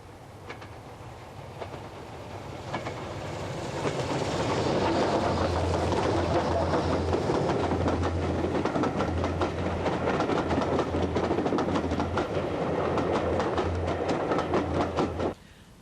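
Two steam locomotives, an LMS 4F piloting an LNER N2, haul a Leicester-bound train on the Great Central Railway's double track near Swithland sidings. A rumble swells after a few seconds into a steady, loud rolling clatter that then cuts off abruptly.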